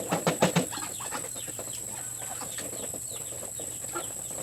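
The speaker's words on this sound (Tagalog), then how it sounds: "Ang ating mga alagang itik guys." Domestic ducks kept on a farm give a few loud, quick quacks close by at the start, then scattered softer calls and rustling over a faint steady background hum.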